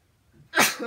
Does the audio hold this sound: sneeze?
yes